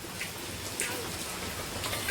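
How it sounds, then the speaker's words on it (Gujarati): Steady rain hisses throughout, with scattered droplet taps, fairly quiet and with no talking. "તો ફૂલ વરસાદ ચાલુ થઈ ગયો છે"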